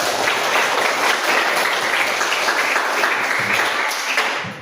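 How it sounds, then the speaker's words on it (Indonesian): Loud, dense applause from a school class for student groups that have just presented, many hands clapping steadily throughout before easing off slightly at the very end. "Kita tepuk tangan buat untuk semua kelompok dulu."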